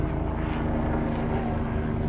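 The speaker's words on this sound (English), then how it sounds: "Sunset helicopter flight going on." A helicopter on a sunset flight over Austin, Texas, gives a steady droning hum with a strong low tone, continuous and fairly loud, with no voices.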